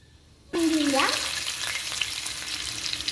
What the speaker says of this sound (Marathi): त्यासाठी मी तव्यात टाकलेलं आहे तेल आता टाकायची जिरी